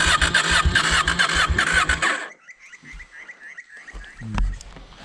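A KTM 790 adventure motorcycle engine being started and revved: a loud, dense rumble for about two seconds cuts off abruptly, followed by quieter cranking, clicks and a brief low thump near the end.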